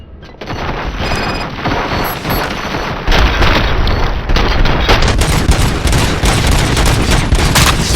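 Sustained loud gunfire rattles through a Robocop video game battle, a dense continuous barrage of shots and booms that swells even heavier partway through, with no talking.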